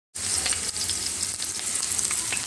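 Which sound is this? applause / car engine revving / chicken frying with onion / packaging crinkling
chicken frying with onion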